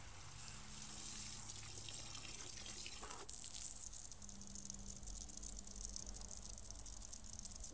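Steady running water from a tap pours while laundry is washed by hand outdoors, a continuous close splashing gush that grows a little stronger partway through, with no talk.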